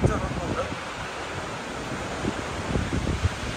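A violent monsoon storm in Mumbai roars as a steady wash of strong wind and heavy rain, a loud broadband rush buffeting the microphone with occasional gusts.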